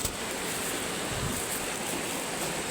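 Steady, loud rushing of river water at a flooded crossing in Bicol, a continuous broadband wash filling the whole stretch with no voices over it.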